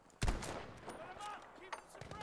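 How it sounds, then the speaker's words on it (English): Gunfire in the video game Battlefield V, a sharp loud shot followed by a continuous spread of rattling fire and distant bursts, with voices shouting over the battle. "Keep up the suppressing fire!"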